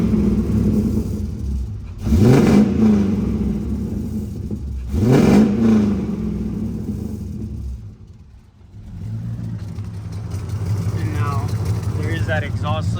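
An LS-swapped E36 BMW M3 V8 blips through two sharp revs that climb and fall, then settles into a steady rumbling idle, with light mechanical noise near the end.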